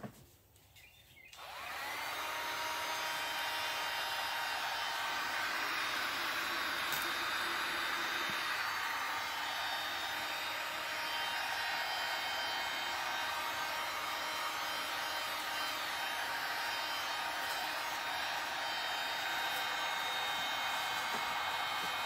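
A heat gun blows a steady, close hot-air whoosh while warming a length of PVC pipe, switching on after a moment of quiet and running continuously without pause.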